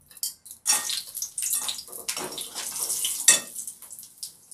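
Sour yogurt being stirred into a cooking pot in a home kitchen, with a spoon scraping and clattering against the metal in irregular strokes, up close and without talk.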